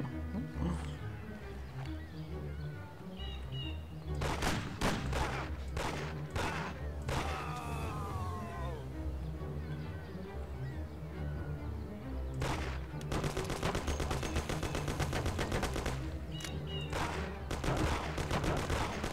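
Gunfire in the Mafia video game, a series of sharp loud shots, some spaced singly and some in rapid bursts, set against a busy background without speech.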